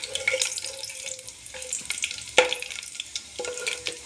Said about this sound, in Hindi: एक से 2 मिनट हम इसको भूनेंगे ऐसे।